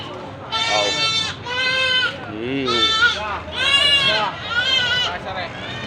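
Several goats bleat loudly in a row of harmonic calls, one after another, at a livestock market in Padre Garcia, Batangas, with a faint crowd murmur in the background.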